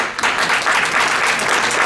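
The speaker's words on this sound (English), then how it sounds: "by an applause, are actually from Pakistan? Please applause" Guests at a relief and development fundraising dinner break into a short, loud burst of applause, many hands clapping densely and evenly with no pause.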